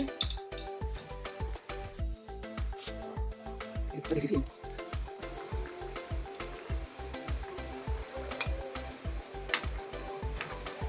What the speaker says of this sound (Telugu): ఇప్పుడు గులాబ్ జాములు అయితే ఫ్రై అయిపోయినాయి